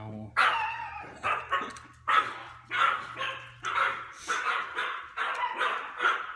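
Five dogs bark together in a home, repeated sharp overlapping barks in steady bursts, fairly close, with a brief low hum early on.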